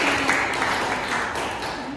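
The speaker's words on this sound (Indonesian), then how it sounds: "Oke, kita berikan tepuk tangan." Audience applause rings out in a classroom or lecture hall after a public speaking session, a steady, moderately loud wash of clapping lasting about two seconds.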